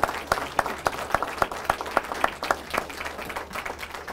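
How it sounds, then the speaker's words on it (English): Audience applause at a police awards ceremony, with a steady patter of many hands and a few sharp, close claps standing out in a regular rhythm, moderately loud and with no talking. "Have another round of applause, please."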